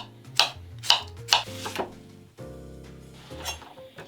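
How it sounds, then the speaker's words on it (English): Knife strikes on a cutting board while dicing an onion for a vegan clam chowder, a few sharp, bright chops with clinking, then a steadier stretch of board and utensil noise, close and fairly loud with no talking. "we just have a little bit of knife work. We're gonna start with our onion."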